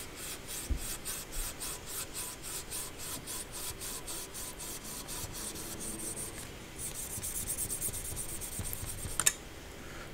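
Rapid rhythmic rasping strokes of a blade sawing through a homemade polyurethane brake pad, steady and close, with a brief pause and a final clack.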